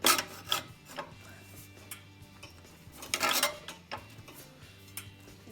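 A wide metal flange is being shrunk during metal shaping, and the work gives off quiet scraping, rubbing and light metallic ticks in irregular bursts with a faint steady hum beneath them. The sound is close.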